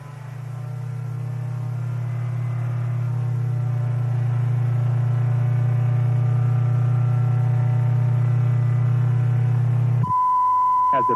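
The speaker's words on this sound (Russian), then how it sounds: "Если частота увеличится до 1 кГц, вы услышите вот такой звук." A steady 1 kHz test tone starts abruptly near the end, following a long, loud low hum like a fan motor's drone that stops as the tone begins.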